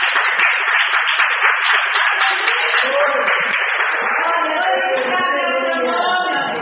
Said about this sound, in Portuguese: Ao assentar, bate as palmas e exalta o grande e santo nome do Senhor Jesus.